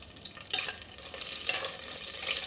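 Red chillies frying in hot oil in a home kitchen while cooking a lentil rasam, a steady soft sizzle and crackle with a burst of louder spitting near the start and again midway, no talking.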